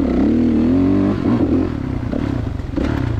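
A 2016 Kawasaki KX 450 dirt bike engine runs loud and close, holding a steady throaty drone with a rising rev early on, then a rougher, choppier throttle with some clatter; no one talks.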